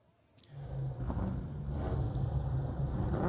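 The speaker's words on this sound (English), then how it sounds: "start your engines!" Twenty-eight GT race cars fire up together on the starting grid at Mazda Raceway Laguna Seca, a low rumbling engine drone that swells after a near-silent start and holds steady at a moderate distance.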